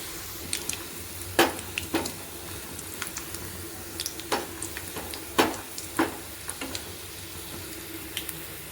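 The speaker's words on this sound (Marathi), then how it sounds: "तेल गरम झालेलं आहे आता चला तर मग लसूण टाकून घेऊया" Garlic drops into hot oil for a tempering as mackerel (bangda) curry is cooked, giving soft sizzling with scattered sharp crackles and pops, some sounding like stirring.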